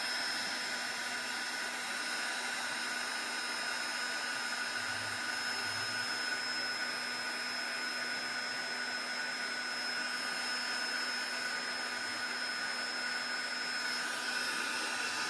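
A dryer blowing on a mixed media art piece gives a steady, even whooshing hum with a constant tone, close and unbroken throughout.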